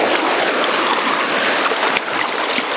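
A flowing stream rushes and burbles continuously close by, a loud, steady broadband wash of moving water with no voices over it.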